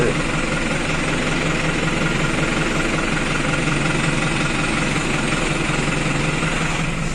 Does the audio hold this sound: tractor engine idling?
yes